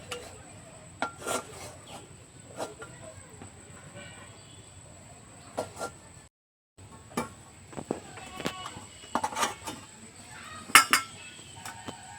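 A metal wok holding cooked palm-fruit dough is lifted off the stove. Scattered faint clanks and scrapes of cookware sound in a quiet kitchen.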